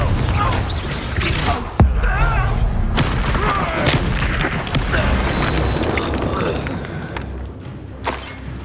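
A Confringo fire spell blast in the Hogwarts Legacy video game, a loud booming explosion with a sharp crack near the two-second mark, followed by sustained rumbling, clattering debris and action noise that tapers off toward the end.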